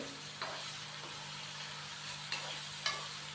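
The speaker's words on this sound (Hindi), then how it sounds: "चिकन डालने के बाद अच्छे से हम इसको मिक्स करेंगे और चिकन की अच्छी तरह भुनाई कर लेंगे" Chicken fries in a pan with whole spices for masala chicken pulao, a faint, steady sizzle under a low hum, broken by a few brief stirring scrapes.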